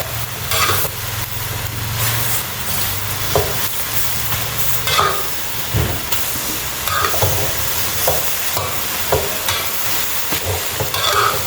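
Vegetables and herbs stir-fried in a hot pan, with a continuous sizzle and repeated scrapes and clinks of the spatula at irregular intervals, close and fairly loud, plus a low steady hum in the background.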